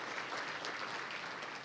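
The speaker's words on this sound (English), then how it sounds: "Let's give our sponsors a big round of applause for their support." Audience at a North San Antonio Chamber luncheon applauding sponsors, a steady, dense wash of many hands clapping at moderate distance with no voices over it.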